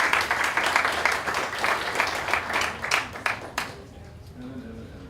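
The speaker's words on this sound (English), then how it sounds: "Big round of applause for Evan." Audience applause at a spring recital, a dense crowd of hands clapping loudly for several seconds before thinning out and fading into quiet room tone.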